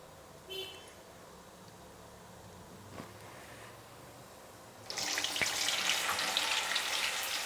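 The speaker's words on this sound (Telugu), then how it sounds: "ఇప్పుడు మళ్ళీ వడలు వేసుకుందాము." Vadas, lentil fritters, drop into hot oil and set off a loud, bubbling fry that swells up suddenly partway through, after a quiet stretch with faint kitchen clinks and no talk.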